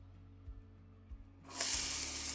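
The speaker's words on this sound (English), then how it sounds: "Ooh, that was a nice sizzle." Quiet kitchen background with a few soft thumps, then a loud, bright sizzle erupts as onions hit hot olive oil in a skillet and keeps hissing.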